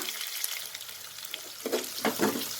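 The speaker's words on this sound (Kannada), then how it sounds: "2 ಆನಿಯನ್ ತೊಗೊಂಡಿದ್ದೀನಿ, ಮೀಡಿಯಮ್ ಸೈಜಿಂದು. ಸ್ವಲ್ಪ ಫ್ರೈ ಮಾಡ್ಕೊಳ್ಳೋಣ." Two medium onions frying in a pan hiss with a steady close sizzle, and a few soft stirring scrapes come near the end.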